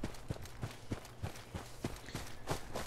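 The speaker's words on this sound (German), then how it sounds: "wie sind meine Schritte so laut" Regular, loud footsteps of a walking character in Fallout 4, each step a distinct thud in a steady rhythm that runs throughout, with no voice over them.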